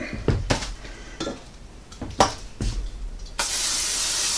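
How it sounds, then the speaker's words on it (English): Several clattering knocks of cookware and utensils, then near the end a sustained hiss of vegetable oil cooking spray into a pan. "A little bit of vegetable spray on the bottom."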